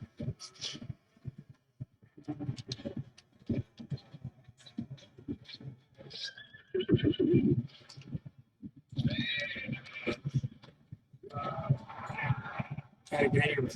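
Horses in a forest video game whinny and neigh repeatedly while hooves clip-clop. The sounds come in bursts that sit among dense game noise and talk.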